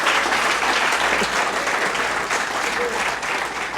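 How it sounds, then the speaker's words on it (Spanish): A church congregation applauds loudly and continuously during a Sunday morning service, a dense, sustained wash of clapping with faint voices mixed in. "Si va a aplaudir, aplauda con ganas en esta mañana."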